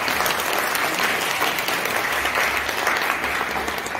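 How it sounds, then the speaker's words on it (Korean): An audience at an international friendship association training event in a multipurpose hall claps steadily and loudly throughout, a dense, even burst of applause with no voices over it. "박수 한번 부탁드리겠습니다."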